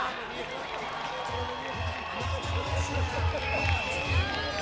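A crowd cheers and claps at a moderate distance at a drag queen gala during the 2025 Vinaròs Carnival in Spain, with whoops rising over a steady wash of noise.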